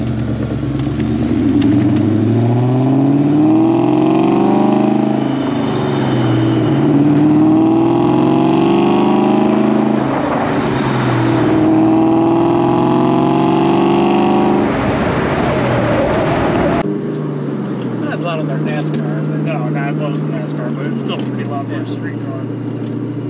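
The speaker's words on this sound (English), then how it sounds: "You do get a good supercharger whine the entire time driving the car." Loud engine of a 630 rwhp supercharged 2003 Ford Mustang Terminator Cobra droning with a rising and falling high-pitched supercharger whine as it accelerates and shifts, continuing while driving, with a quieter cruising stretch at the end.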